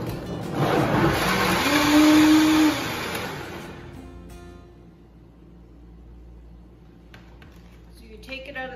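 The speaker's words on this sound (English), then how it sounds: "you blend it down so that it's just like a very smooth sauce" A blender whirs loudly for a few seconds, its pitch shifting as it churns vegetables into a smooth sauce, then cuts off, leaving a quiet room with faint background noise.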